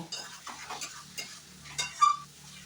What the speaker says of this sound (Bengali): এবার সব কিছুর সাথে ভালো করে কষিয়ে নিতে হবে সামান্য জল দিয়ে দিলাম যতক্ষণ না মশলা থেকে তেল ছেড়ে আসছে ততক্ষণ কষিয়ে নেব